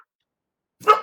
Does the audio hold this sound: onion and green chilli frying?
no